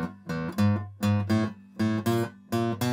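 Acoustic blues guitar turnaround at the eleventh bar, a run of plucked bass notes and strummed chord stabs in a steady, bouncing rhythm, close and clear with no voices.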